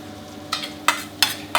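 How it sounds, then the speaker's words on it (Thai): Three or four short, wet squishing strokes at a steady rhythm as minced pork is pressed and mashed in broth, with a low hum underneath. "มายีด้วยน้ำซุปก่อนเลยครับ"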